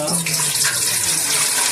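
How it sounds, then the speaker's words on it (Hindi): Tap water pours steadily into a cooking pot on a stove while corn is being prepared, a close, continuous splashing stream that fills the whole moment without any talk. "इतना पानी ऐड करेंगे कि वो पानी यहाँ से जो है वो ऊंचा ना हो।"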